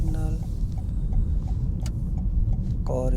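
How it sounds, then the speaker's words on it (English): A car approaches on a UK road during an automatic-car driving lesson, heard from inside the learner's car as a steady low engine and tyre rumble that rises slightly, with brief talk at the start and end. "Car is approaching."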